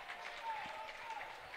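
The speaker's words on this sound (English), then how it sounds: "As this crowd for Covenant getting excited here." A home basketball crowd for Covenant Christian cheering and applauding during overtime of an Indiana high school game against University, a continuous wash of clapping under an announcer's commentary.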